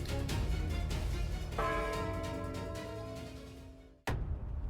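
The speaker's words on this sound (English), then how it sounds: "Every day at noon, from the Mediterranean to the Atlantic, church bells ring" Church bells peal at noon in a Mediterranean-to-Atlantic setting, a dense wash of struck bronze with long ringing overtones that sustain and fade, then cut off before a fresh loud strike near the end.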